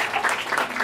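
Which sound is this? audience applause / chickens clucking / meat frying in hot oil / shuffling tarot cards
audience applause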